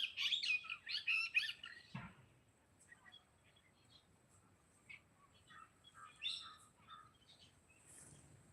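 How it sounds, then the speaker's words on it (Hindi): Birds, parrots among them, call from a tree outdoors. A dense burst of bright chirping opens the stretch, then scattered, fainter tweets and calls continue in a quiet open-air setting. "तो इसीलिए यहाँ खूब चिड़िया तोता सब बोल रहे हैं"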